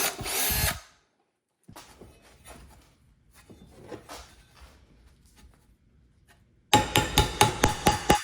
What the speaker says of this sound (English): I forgot to drill these holes when it was flat.